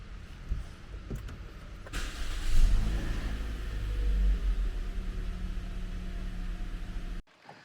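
A Toyota Corolla Altis sedan is unlocked and started: a faint click or two, then the engine catches with a brief rev that settles into a smooth, steady idle until the sound cuts off abruptly.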